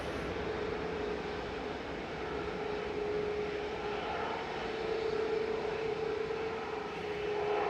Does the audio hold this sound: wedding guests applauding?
no